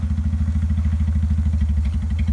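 A Saturn car engine with some cylinders deactivated runs at full throttle while stuck in third or fourth gear, giving a steady, loud, lumpy pulsing drone with a regular uneven beat throughout.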